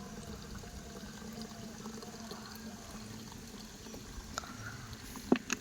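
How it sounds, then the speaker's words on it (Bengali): Soft, steady trickle of water pouring into a clay kolshi pitcher in a rural Sundarbans village, faint and continuous with a couple of small clinks near the end. "দেখো জল দেখো কিরম পড়ছে"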